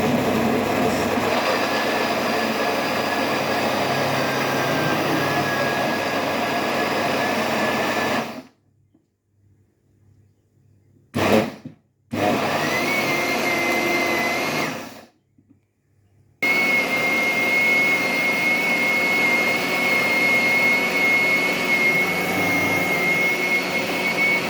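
A food processor motor whirs loudly and steadily as it chops vegetables and coriander for a vegetable galette. It cuts out, gives two short bursts, then runs again continuously to the end.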